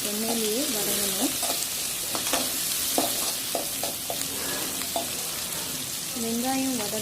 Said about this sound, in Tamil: வெங்காயம் ஒரு 2 நிமிஷத்துக்கு நல்லா இந்த எண்ணெயிலேயே வதங்கணும்.